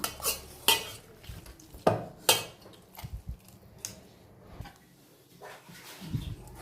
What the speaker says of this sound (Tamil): இப்போ நம்ம ஒரு பாத்திரத்தில் வேக வச்ச மரவள்ளி கிழங்கு போட்டிருக்கோம். இப்போ இதை நல்லா மசிச்சுக்கலாம்.